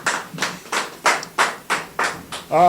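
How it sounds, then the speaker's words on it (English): Hand claps at a youth stakeholder forum, about eight sharp, evenly spaced claps in a steady rhythm, close and fairly loud, with a voice cutting in right at the end. "Please, a round of applause for Mr. President."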